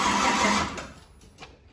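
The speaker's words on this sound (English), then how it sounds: "we're gonna go ahead and crank this thing over and just see how it sounds without turning the fuel pump on" A car engine cranks over with the fuel pump switched off, turning loudly for under a second with a dense churning whir, then dropping away into quieter clicks and faint rattles.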